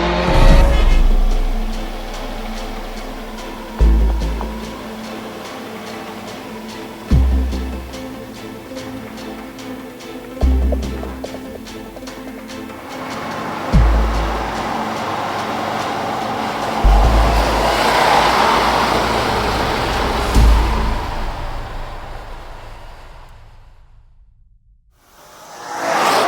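Subaru Impreza STi 22B driven hard, its engine rising repeatedly through gears with sharp drops at each shift, loud and close, then a rushing wind-like swell before fading to near silence.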